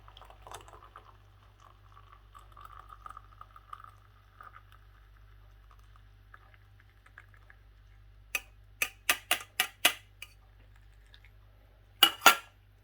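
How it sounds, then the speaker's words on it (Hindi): Tea poured from a pot into a cup in a home kitchen: a soft, steady trickle runs for several seconds, then a quick run of bright clinks and two louder clatters of cup and spoon, with no talking. "अल्लाह का नाम लेकर चाय जो है वो आपने कप में डाल लेनी है"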